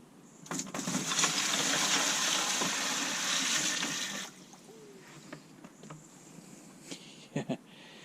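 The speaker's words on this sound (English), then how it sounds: "I'll pour in the first 5 litres and see how that does." Water poured from a container into a tub of rusty Honda CB200 motorcycle parts, a loud continuous gush for about four seconds, then quiet drips and small knocks.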